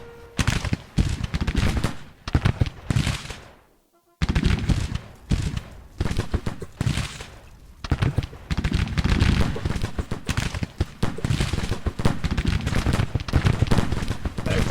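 Massed musket volleys from Civil War infantry brigades in a tactical battle game, dense crackling gunfire rolling continuously under battlefield noise, broken by a brief pause before resuming heavy and sustained.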